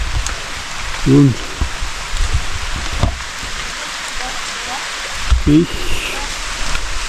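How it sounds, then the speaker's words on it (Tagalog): Heavy rain falls during a fishing outing: a steady, loud hiss fills the whole stretch, with someone speaking briefly over it. "kasi malakas ang ulan"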